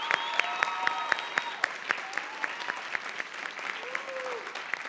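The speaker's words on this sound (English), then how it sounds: "So one more round of applause for her," A small audience at a high school play applauds the director, a steady patter of scattered individual claps with distinct sharp hits, moderately near, tapering slightly toward the end.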